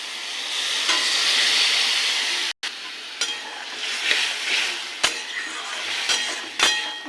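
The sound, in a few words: water added to frying ridge gourd, bori and poppy seed dish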